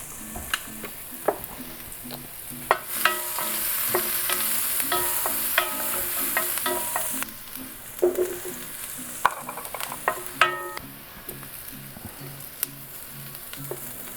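Shallots and garlic fry in a pan, giving a steady, loud sizzle with repeated scraping and clinking as they are stirred, and the sizzle eases partway through.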